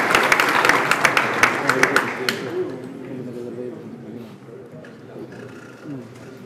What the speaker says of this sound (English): Can I have a big round of applause for Karl?